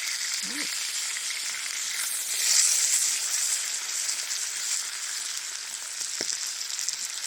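Steak, potatoes and mushrooms sizzle and crackle steadily while deep frying in a hot cast iron pan outdoors, a bright continuous frying hiss, with a brief faint voice early on.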